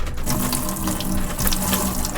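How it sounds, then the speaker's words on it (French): Water pours from a pump-fed tap into the sink of a DIY-converted Kangoo/Berlingo van, a close, loud, continuous splashing stream heard alone. "L'eau qui coule, c'est cool."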